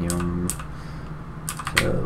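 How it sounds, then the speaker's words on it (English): A few quick computer keyboard keystrokes in short clusters, close and soft, with a brief voice and a low hum during a Roblox London bus game. "Gonna hear my amazing keyboard this entire time."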